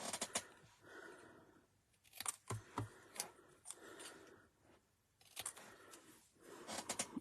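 Scissors snip through handmade craft card ATCs, cutting each one in the middle: a few clusters of short crisp cuts and scrapes, close and fairly quiet, with pauses between.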